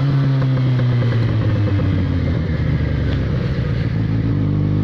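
A Yamaha XJ6 motorcycle engine runs loud and close, a steady throaty rumble with rising revs and a mechanical clatter, heard alone without talk.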